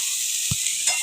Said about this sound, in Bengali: তারপরে সয়াবিনটা দিয়ে একটু নাড়াচাড়া করে নিচ্ছে